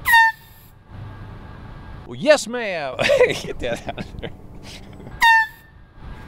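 Vehicle horn honking in two short, loud blasts, one at the start and one near the end, with a person talking loudly in between.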